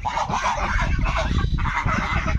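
Domestic geese kept on a small farm give a steady run of loud, overlapping honks and cackles close by, with no pause across the stretch.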